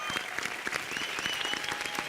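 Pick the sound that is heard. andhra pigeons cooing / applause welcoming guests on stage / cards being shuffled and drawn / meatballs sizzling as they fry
applause welcoming guests on stage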